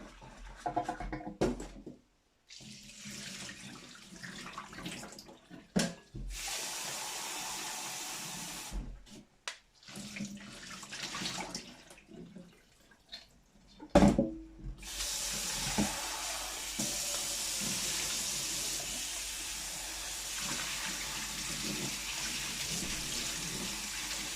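Tap water running over dal lentils being washed in a kitchen sink, splashing in broken bursts with brief pauses, then a steady close rush of flowing water for the last several seconds.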